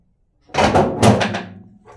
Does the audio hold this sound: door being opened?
yes